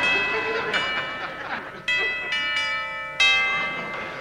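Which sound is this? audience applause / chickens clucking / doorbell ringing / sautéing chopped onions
doorbell ringing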